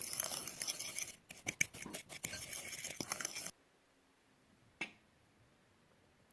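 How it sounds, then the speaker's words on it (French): A fork mixes dry couscous in a bowl, making quick close scratchy scrapes and clinks for a few seconds before stopping, followed by near silence with one faint clink and a small tap at the end. "avec une fourchette, on va bien mélanger"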